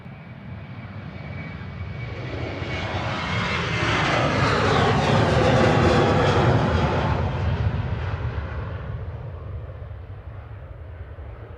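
A TUI Boeing 737-800 jet airliner, registration G-FDZY, at Manchester Airport bound for Heraklion, Crete, roars loudly as it passes, building to a broad peak and then tapering off, with no talking.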